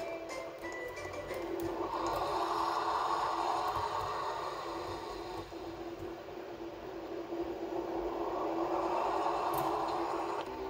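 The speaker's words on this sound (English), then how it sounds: "See if we can watch the train come out of the launch track." Roller coaster train launching out of a launch track in a Roblox game, heard as a steady rushing rumble that swells twice over ten seconds, fairly loud and continuous with no talk.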